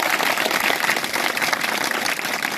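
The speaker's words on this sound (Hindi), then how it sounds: "जोरदार ताली बजेगा" Audience applauding to honour village children at a gathering in Pandhurna, loud continuous clapping from a large crowd throughout.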